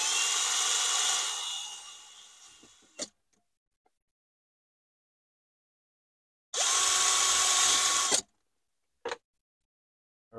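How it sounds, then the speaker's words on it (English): An electric drill whirs in two sustained bursts, each a couple of seconds long and separated by silence, boring small screw holes in a 2004 Honda Element, with a few short clicks after each burst. "I'm just gonna drill 2 little holes for the screws"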